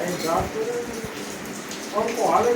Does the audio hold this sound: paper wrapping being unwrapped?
no